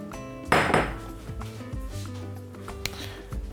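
A glass bowl is picked up and set down with a sharp clink and handling knocks, followed by lighter taps and scrapes in a kitchen while preparing taco ingredients.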